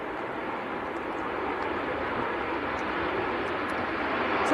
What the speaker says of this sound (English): And Ryanair just touching down. This one's, oh yeah, hard on the reverses.